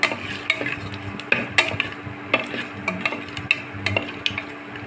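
Whole spices fry in hot oil in a pan for sweet corn mint rice, giving a soft sizzle with light stirring and repeated sharp clicks and pops of utensil against pan, close and fairly quiet.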